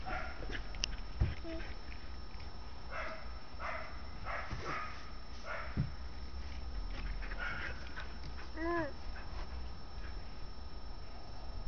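A puppy gives faint, brief whimpers amid soft rustling and patter, fairly quiet and intermittent.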